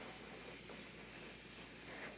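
An aerosol can sprays a red paint coat onto a quarter-scale custom Hellboy statue, a steady close hiss running unbroken for the whole short stretch.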